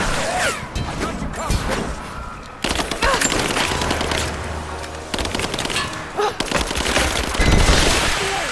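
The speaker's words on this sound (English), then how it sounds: "Taking fire. Covering fire. Advancing. Keep firing." Dense bursts of gunfire and crashing impacts in a Rise of the Tomb Raider firefight, loud and continuous with sharp cracks, under shouted combat callouts from soldiers.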